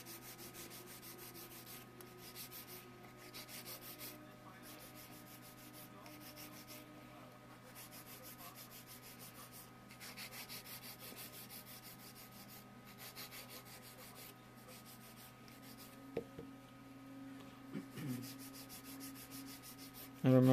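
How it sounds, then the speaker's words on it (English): A 150–180 grit nail file is drawn across fingernails during finish filing, producing a continuous close rasping rub in quick, even back-and-forth strokes with brief pauses and no talking. "So when you do your finish filing, You don't need a 100 grit file."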